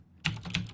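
Computer keyboard typing into a text tool: a few quick, close key clicks in a short burst with no talking.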